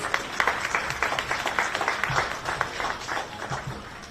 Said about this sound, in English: Can you give the team at Unicom a big round of applause, please?